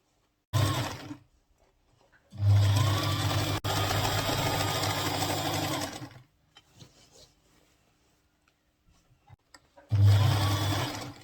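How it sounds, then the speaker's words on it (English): Sewing machine stitching a trouser seam in loud, steady bursts of motor whir, with two short runs and one longer continuous run separated by brief pauses. "So I'll start sewing it."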